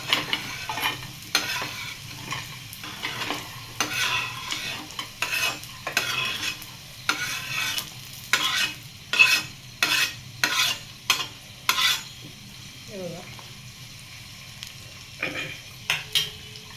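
Roasted masala for an eggplant curry being stirred in a hot pan, with repeated scraping strokes over a low frying sizzle, close and fairly loud, with no talking.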